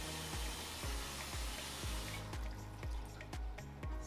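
Water running into a Giantex/Costway portable mini twin tub washing machine, a steady faint splashing flow with a regular rhythmic thump as the tub fills, no voice.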